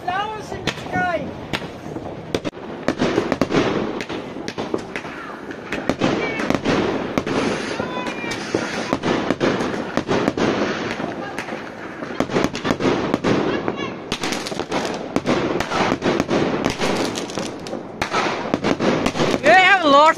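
Fireworks bursting overhead during a German celebration, a long dense stream of crackling pops and bangs at varying distances, with whistles rising between them and people talking throughout.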